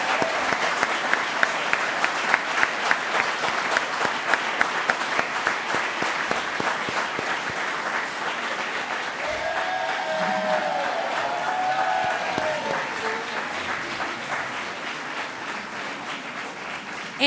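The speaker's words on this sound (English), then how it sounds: "Please join me in giving Ms. Green, Sister Grace, and the teams that worked on these projects a big round of applause." Audience applause at a mayor's 2017 State of the City address in Rochester, a large hall of rapid, sharp clapping that gradually thins and softens, with faint cheers and murmuring voices rising underneath.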